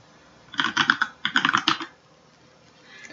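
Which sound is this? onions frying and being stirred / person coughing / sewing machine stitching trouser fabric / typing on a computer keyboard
typing on a computer keyboard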